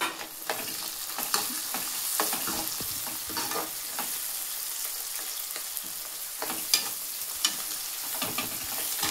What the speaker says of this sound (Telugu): మనం ఇప్పుడు కొన్ని పచ్చిమిర్చి వేసుకుందామండి